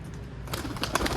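Soft pigeon cooing close by on a rooftop, a few low murmuring calls with light rustling, fairly quiet.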